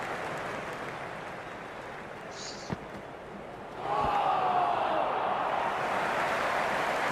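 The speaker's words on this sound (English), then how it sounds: "There's a buzz, a real buzz coming from the stands." Stadium crowd in the cricket game Cricket 26, a steady broad roar from the stands that swells louder partway through and holds, far and enveloping.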